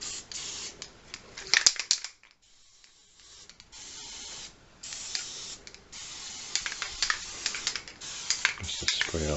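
A spray can hisses paint onto a horror sculpture in several short and longer bursts, with a brief quiet gap between them and close, uneven rattling hiss throughout.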